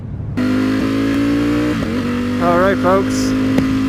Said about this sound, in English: we are on a 2018 Ducati V4 Speciale, and man, I miss this V4. It's such an awesome bike.